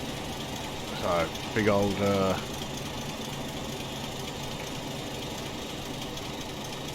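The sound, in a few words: Class 25 diesel locomotive accelerating in Train Simulator Classic video game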